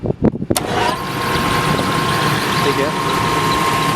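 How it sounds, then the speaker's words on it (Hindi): An LG packaged air conditioner's blower motor starts after a few clicks and handling knocks, then settles into a steady hum with a faint whine, as a voice briefly speaks at the start. "हमारा ब्लोअर मोटर चल गया, लेकिन ब्लोअर से थोड़ा सा भी आवाज़ नहीं है"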